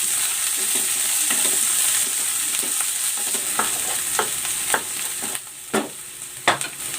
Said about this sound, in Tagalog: Igigisa ko na tong bawang. At ang sibuyas.